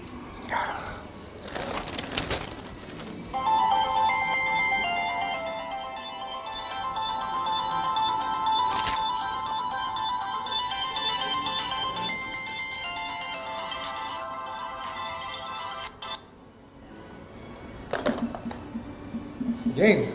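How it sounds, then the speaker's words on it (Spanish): A telephone ringtone plays a steady repeating tonal melody for much of the stretch, moderately loud, with brief bursts of other noise and voices at the start and end. "¿Por qué no contestas el teléfono?"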